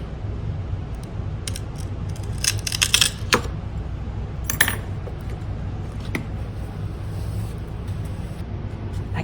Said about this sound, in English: I can hear it still cracking.